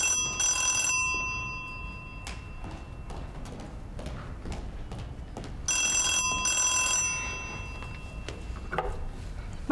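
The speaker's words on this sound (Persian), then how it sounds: "یا تلفن رو جواب بده" A telephone rings in two bursts of trilling bells, separated by a stretch of clattering, ticking background sounds at moderate volume.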